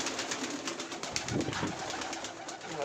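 Pigeons outside their loft murmur and coo while feeding, giving soft, continuous throaty calls mixed with rustling, near and steady throughout.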